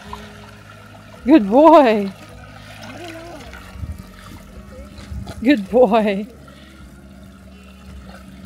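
Atlas the dog laps up Swiss water with soft, wet splashy sips, while a person speaks warmly over the drinking.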